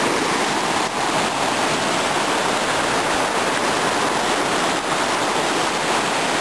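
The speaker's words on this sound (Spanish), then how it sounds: "Viene a confluir directamente aquí, a unirse con el río Jequetepeque, y forman un solo río" Rushing water where a mountain stream meets the Jequetepeque river near Chilete, a loud, continuous broadband roar close by with no letup.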